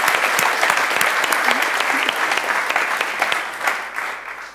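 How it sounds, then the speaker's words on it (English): Ladies and gentlemen at a WIRED 2014 Next Generation event applaud ESA astronaut Tim Peake, a dense, lively round of clapping with sharp individual claps standing out, tapering slightly toward the end. "Round of applause."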